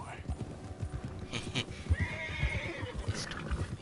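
Horse in Red Dead Redemption 2 whinnying with a rising neigh while hooves clip-clop steadily nearby, mixed with game ambience and someone talking softly over it.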